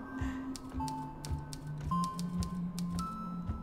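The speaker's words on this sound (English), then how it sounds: "Did anyone else hear that typewriter or..." Typewriter keys struck in an irregular string of sharp clacks over a low tonal hum and faint background tones, fairly quiet and steady, with no talking.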